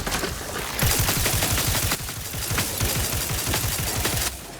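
Rapid automatic gunfire from a gun in The Outer Worlds 2 rattles in dense, loud bursts, pausing briefly between volleys before cutting off.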